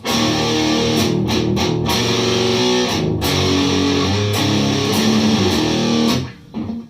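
A heavily distorted electric guitar through a BOSS DS-1 distortion pedal set high plays thick, saturated chords continuously and loudly, ending with a brief fade as the last chord rings out.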